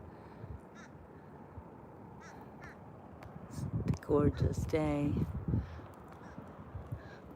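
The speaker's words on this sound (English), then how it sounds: "I hear a bird honking." At the beach, a bird honks and caws in a short burst of repeated calls, fairly close, over wind and surf noise, with a person speaking briefly beforehand.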